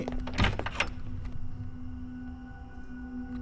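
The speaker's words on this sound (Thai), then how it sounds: "ประตูปิดเอง" A door swinging shut by itself in a dark, empty hospital at night: a single muffled thunk near the start, then a low electrical hum and quiet room tone.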